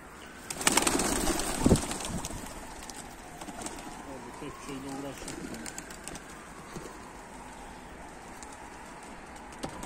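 Pigeons at a loft in Mardin coo in a low, soft repeating burble across the clip, with a louder rustle of wings or handling near the start and a voice talking over the birds.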